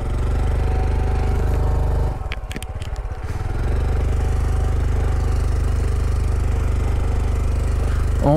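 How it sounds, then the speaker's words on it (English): A Honda Trail 125 motorcycle's single-cylinder engine chugs loudly through deep sand, its steady thumping rhythm faltering and sagging for about a second as it bogs, then recovering to a strong drone. "She's bogging down. She's bogging down, Captain. There she goes. Woo, too much sand."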